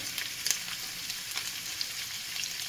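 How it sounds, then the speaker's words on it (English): Shrimp seasoned with salt and pepper sizzle steadily in a hot pan, a dense continuous frying hiss with small crackles and pops throughout, close and alone without talk. "the shrimp, it don't take no time to cook"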